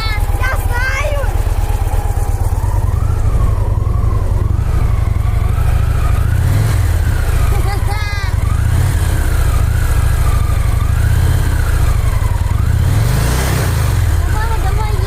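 A motorcycle engine runs loud and close throughout, its pitch rising and falling with repeated revs over a heavy low rumble, while a child and an adult talk over it.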